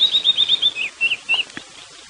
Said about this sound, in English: There's some grey hornbills in the background.